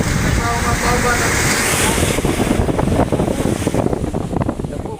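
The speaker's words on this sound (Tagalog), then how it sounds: "medyo malakas po ang alon gawa ng hangin habagat" Strong sea waves churned up by the southwest monsoon wind wash around a fishing boat unloading tuna into its hold, with a steady roar, wind buffeting the microphone and voices talking underneath throughout.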